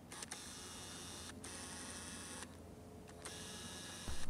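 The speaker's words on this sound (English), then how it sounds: "Both the VR and the autofocus are incredibly loud." Nikon AF 80-400mm f/4.5-5.6D IF-ED VR telephoto lens, its autofocus and vibration-reduction motors giving a steady whirring hum close up, broken by brief clicks and pauses.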